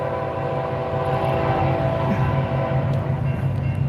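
A train horn sounds in a long, sustained blare with layered tones over the low rumble of a moving train.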